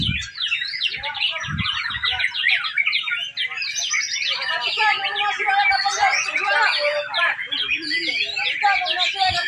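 Songbirds chirp and tweet in a dense, continuous chorus of quick high calls close by, with a couple of low thumps at the start and brief talk nearby.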